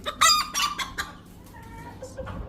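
A rooster on a Turkish poultry farm clucks and crows several times while eggs are gathered. The calls are loud and bunched in the first second, then fade into quieter scattered clucks.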